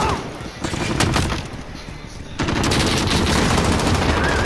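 Gunfire in the video game Call of Duty: Modern Warfare, loud rapid bursts of automatic fire that pause briefly and then return as a sustained dense volley, with voices talking faintly underneath.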